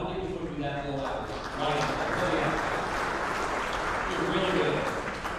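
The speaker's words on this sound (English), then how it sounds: "how about a round of applause for that food?" A crowd at an economic development partnership appreciation reception breaks into a steady round of clapping, moderately loud and sustained, with a voice speaking over it.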